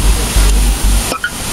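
Powerful water jets in an automatic car wash, a loud rushing spray with heavy low rumble that pulses and briefly drops out near the end.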